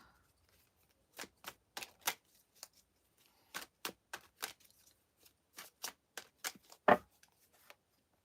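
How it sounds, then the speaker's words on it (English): A deck of tarot cards gets shuffled by hand, a quick series of crisp riffling and tapping bursts, up close and fairly quiet, with short pauses between them and no talking. "So I give the cards a real nice shuffle on this one."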